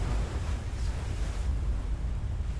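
Steady broadband wash of water waves from the video game I Am Alive, a continuous surf-like roar with low rumble, fairly close and constant, with no talking over it.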